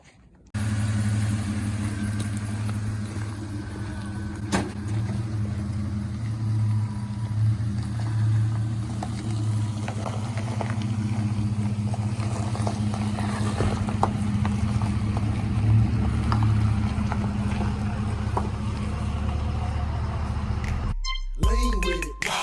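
A Toyota truck carrying a camper drives on a test run, its engine a steady, close, droning rumble that holds for about twenty seconds before cutting off abruptly.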